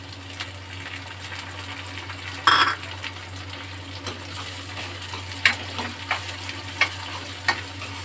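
Chopped tomato sizzles and fries in a pan with milk sev curry masala, a steady crackling hiss broken by a few sharp clicks and stirring scrapes, close and alone.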